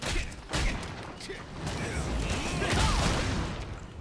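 Cannons fire in the video game Lost Ark, several booming blasts and clattering impacts over a busy battle din, with a voice talking in the mix.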